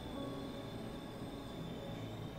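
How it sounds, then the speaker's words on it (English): A glitched-out train in the video game Cry of Fear gives a dense, steady rumble with faint high squealing tones, loud and continuous throughout with no voices. "Are we gonna get the glitched out train?"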